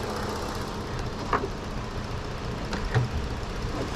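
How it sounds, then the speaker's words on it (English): Steady low rumble of a running 3.7-liter engine in a 2013 Ford Explorer police vehicle with California emissions, idling evenly with a couple of faint clicks over four seconds. "The engine's running really good."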